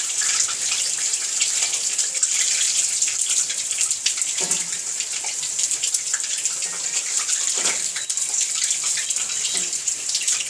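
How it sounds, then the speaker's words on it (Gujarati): Steady rain pours down in a village while chili bhajiya fry outdoors, a dense continuous hiss with soft irregular drops throughout, no voices. "તમે જુઓ કેવો સરસ વરસાદ આવી રહ્યો છે"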